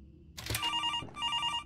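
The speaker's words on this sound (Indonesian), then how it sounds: "Ada telepon." A telephone rings in the horror game Mortuary Assistant, a bright trilling electronic bell that sounds in two bursts close by, with a low game ambience underneath.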